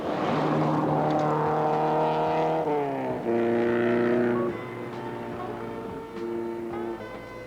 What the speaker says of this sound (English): The inevitable helicopter heralds Michel Mouton's arrival at control.